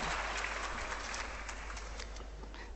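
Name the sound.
seminar audience applause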